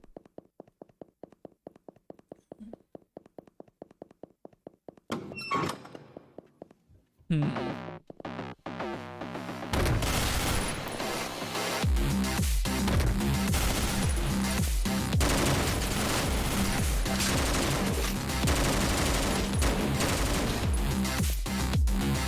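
Gunfire in the video game OTXO: a quick rhythmic string of small shots, then louder bursts of rapid fire and impacts, ending in continuous dense shooting over loud game music.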